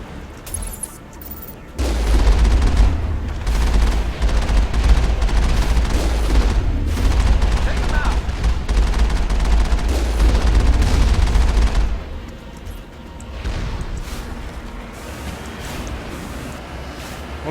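Missile turrets fire at the Mako vehicle in Mass Effect, producing a long stretch of heavy rumbling blasts and booming impacts that hold loud for about ten seconds before easing back into quieter game ambience.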